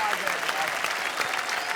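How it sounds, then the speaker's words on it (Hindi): Dense audience applause at a Hindi comic poetry show, loud and continuous for its short length, with voices mixed into the clapping. "तो भाई आम आदमी के लिए एक बार जोरदार तालियां।"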